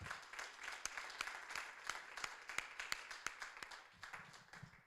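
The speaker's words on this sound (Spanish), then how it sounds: "¿Cuántos dan un aplauso fuerte a Jesucristo?" A church congregation applauds during a sermon, a faint, distant spatter of scattered hand claps that keeps up steadily and slowly thins out toward the end.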